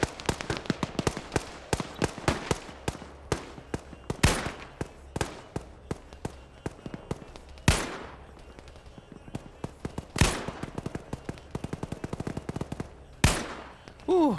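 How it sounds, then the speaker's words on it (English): Rapid bursts of automatic gunfire and single sharp shots crackle back and forth in a military video game battle, with several louder close blasts standing out among quicker, fainter volleys at an irregular pace. "Just look at all the fire going back and forth here."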